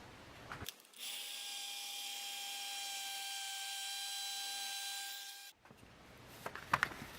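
A heat embossing tool runs steadily for about five seconds while melting embossing powder on a stamped craft piece, giving a loud, even whine with a constant hum that starts and stops abruptly.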